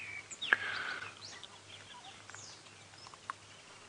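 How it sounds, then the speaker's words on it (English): Ground scraper thrushes call in the early morning on a safari drive, a pair giving faint, scattered chirps and whistles at a distance over low engine hum. "Very noisy this morning. A pair of ground scraper thrush."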